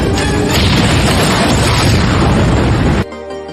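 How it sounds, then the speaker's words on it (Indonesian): A loud, sustained explosion from a trap set by Rambo in a war film rolls on for about three seconds and then cuts off abruptly to a quieter background. "jebakan Rambo berhasil meledakkan tim tentara yang mengejarnya"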